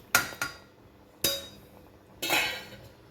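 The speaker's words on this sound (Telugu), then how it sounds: "మూత పెట్టేసుకుందాం." A lid goes onto a cooking pot of mutton pulao simmering in hot water, making a few sharp metallic clinks and knocks: two quick taps, a single clank, then a longer rattling settle, all close by and quiet around them.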